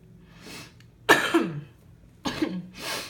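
Two harsh, close coughs, one at a time with a pause between, amid soft breathing and faint room noise.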